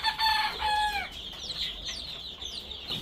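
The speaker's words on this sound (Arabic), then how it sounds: "الدجاجات اللي عمرهن شهرين، اللي هاي وحدة منهن" Two-month-old chickens kept in a warm bathroom room cluck and call nearby, with a brief crowing-like drawn-out note at the start followed by softer scattered clucks over low background noise.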